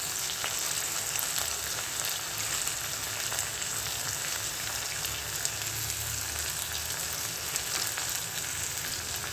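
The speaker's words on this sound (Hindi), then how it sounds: "जीरा तड़क गया तो इसके अंदर डाल देते हैं प्याज" Onions with cumin seeds fry in hot oil, giving a steady, dense sizzle that runs unbroken at an even level, close by, with no voices.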